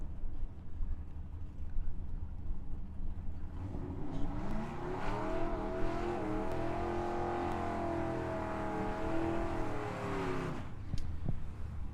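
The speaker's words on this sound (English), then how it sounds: "68 Firebird against the 67 Camaro. Small block left" A small-block 1968 Firebird and a big-block 1967 Camaro at a drag strip, engines building to a loud sustained roar that rises in pitch, then cuts off sharply near the end.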